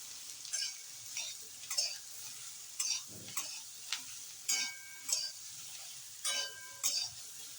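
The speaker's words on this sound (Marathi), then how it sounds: "हे उकडलेले स्वीट पोटॅटो ह्याच्यात घालायचे आहेत आणि चांगलं परतून घ्यायचे आहे" Boiled sweet potato is tossed with fried chillies in a pan, giving a steady series of about ten short spatula scrapes over a soft, continuous sizzle.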